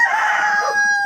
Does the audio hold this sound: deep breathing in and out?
no